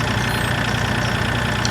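A tractor in a farming video game idles during sugar beet harvesting, a steady low engine rumble that holds loud and constant throughout.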